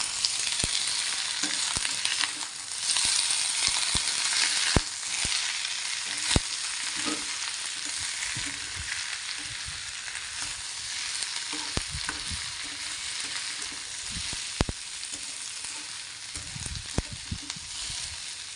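Malabar spinach leaves and potatoes frying with a fish head in a pan, a continuous bright sizzle with crackles and scraping stirs throughout, up close and with no voices.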